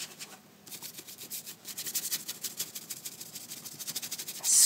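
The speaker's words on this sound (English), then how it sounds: "Scrub it on there." A brush scrubs acrylic paint onto a dark fresco-finish background in a steady run of soft, rhythmic rubbing strokes, close and fairly quiet, with no talk.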